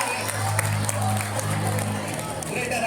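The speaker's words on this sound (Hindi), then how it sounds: "स्वागत कीजिए तालियां बजा करके सौभाग्य" A school audience at a Class XII farewell at PM SHRI JNV West Singhbhum claps for a student, a dense, steady wash of applause with crowd murmur and a low hum underneath.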